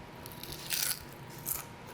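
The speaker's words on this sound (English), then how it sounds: "You hear the crunch?" Two close, sharp crunches of biting into crisp potato peel chips, one after the other, in otherwise quiet surroundings.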